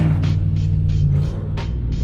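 A supercharged Foxbody Mustang pulls away with a deep, steady engine rumble up close, a low droning tone broken by short bursts of higher whine or hiss.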